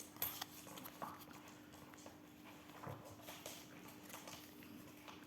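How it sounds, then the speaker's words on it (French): A dog eats something nearby during a Pokémon card booster opening, giving soft irregular chewing and clicking sounds in a quiet room, faint and close with no talking. "il y a mon chien en train de manger quelque chose là"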